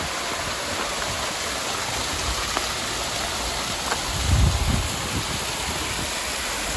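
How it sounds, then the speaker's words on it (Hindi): Water rushing steadily from a small mountain waterfall in Poonch along the Mughal Road, a constant broadband wash with a brief louder low surge partway through and no talk. "ये झरना भी काफ़ी अच्छा लग रहा है यहाँ पे"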